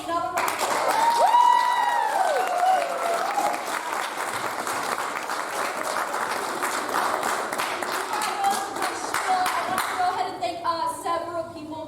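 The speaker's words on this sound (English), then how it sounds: "So let's give them another round of applause." A theatre audience applauds the children's cast of a Missoula Children's Theatre pirate show in Manchester, Georgia, with steady, dense clapping that holds for the whole stretch. Cheers and whoops rise over it early on, and a few distinct claps stand out near the end.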